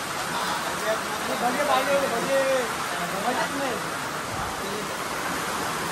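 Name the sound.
heavy rain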